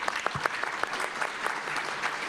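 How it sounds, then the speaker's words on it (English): An audience applauds panelists at a panel discussion on contemporary antisemitism: steady, dense clapping from a crowd that carries evenly through the whole stretch with no voices over it. "Thank you for applauding our panelists."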